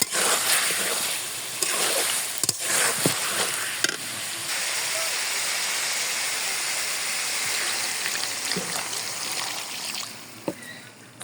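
Potatoes go into a sizzling spiced beef curry in a pan, a steady close frying hiss broken by several sharp knocks and scrapes of a utensil, with faint speech in the background.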